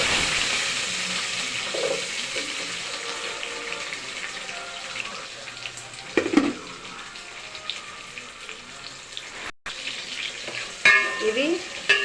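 Onions and whole spices fry in hot oil with a bright, continuous sizzle, broken by a couple of clattering bursts as a spoon stirs the pan; the sizzle stays moderately loud throughout.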